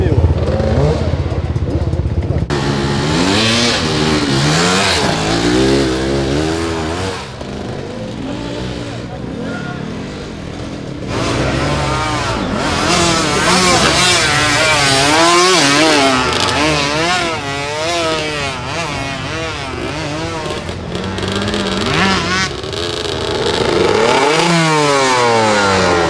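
A Honda CR enduro motorcycle revs repeatedly while riding off, its engine rising and falling in pitch with loud, close throttle surges and a continuous rough drone, while people talk over it.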